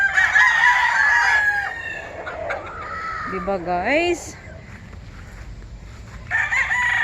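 Fighting roosters on a tidy farm, several birds crowing loudly and nearby with clucks between calls, while a person talks over them.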